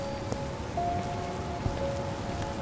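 Rain falls steadily on a street at night as a dense, even hiss, with a faint tone running through it and no voices.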